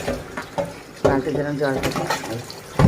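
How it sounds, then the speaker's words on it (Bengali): Water splashes and pours as a bowl of washing water for vegetables is emptied and refilled, wet sloshing bursts close by with a voice talking over them. "এবার এইভাবে রেখে জলটাকে পাল্টে দিলাম"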